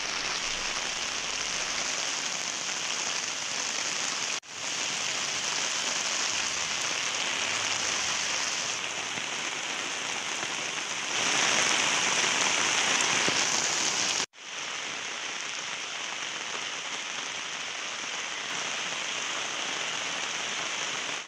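Heavy, unbroken rain falling across districts of Tamil Nadu during monsoon flooding, a dense steady hiss that fills the scene with brief cuts between stretches, loud and close throughout with no voices.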